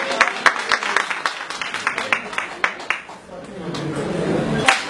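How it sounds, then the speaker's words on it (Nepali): An audience at a DXN health seminar claps, with sharp scattered hand claps up close that thin out and give way to a softer wash of crowd noise with people talking. "एकदम जोरदार तालीले सहयोग गरेर"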